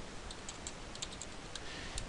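Computer keyboard keys pressed for the Alt F12 shortcut in Delphi, a few soft, faint clicks scattered over a steady background hiss, with no talking.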